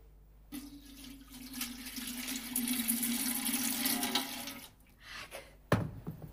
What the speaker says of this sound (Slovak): Čistej pramenistej vodičky.